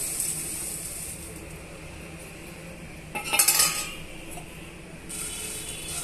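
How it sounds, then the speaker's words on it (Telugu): Puffed rice roasts in a pan for a crunchy roadside snack mixture, with a faint steady hiss broken by a short, loud metallic rattle of grains and utensil near the middle. "ఇవన్నీ కూడా ఈ ప్యాన్లో వేసేసి వేయించుకోవాలి"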